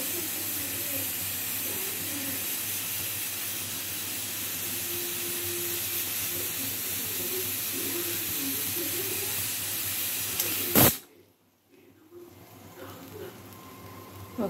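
A pressure cooker holding tamarind sambar gives off a long, steady whistling hiss that fills the room, then it is cut off sharply, leaving only quiet kitchen background.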